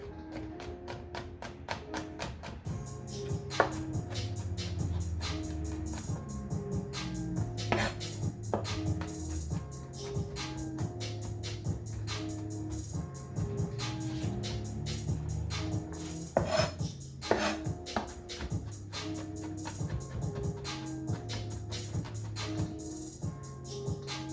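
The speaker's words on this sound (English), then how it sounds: "I like to leave it chunky, so I'm going to do a rough chop." A knife roughly chops garlic on a cutting board, with irregular sharp taps and some rasping scrapes coming close and clear for a long stretch, with no speech.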